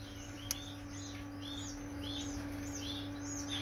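Red mosaic canary chirping in short, repeated high tweets at a steady pace, fairly close and moderately loud over a constant low electrical hum, with no talking.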